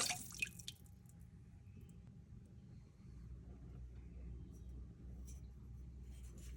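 Ceramic glaze drips faintly off an upside-down mug held over a glaze fountain, with soft, sparse drips above a low, steady rumble.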